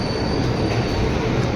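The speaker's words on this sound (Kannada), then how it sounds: "ಈ ಟ್ರೈನ್ ಪಾಸ್ ಆಯ್ತಿದ್ದಂಗೆ ಈ ಟ್ರೈನ್ ಪಾಸ್ ಆಯ್ತದೆ" The Danapur Express passenger train rolling past close by, a loud continuous rumble of wheels on rails with a faint high squeal over it.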